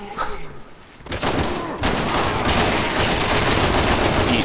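Gunfire in Resident Evil 6 during Leon's campaign starts with a few scattered shots, then swells into a loud, continuous volley of rapid bursts that fills the scene.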